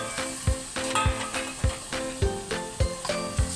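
Pork sizzles in a pan for dinuguan, a steady close frying hiss broken by regular low knocks roughly every half second as the meat is stirred, with faint tonal sounds in the background.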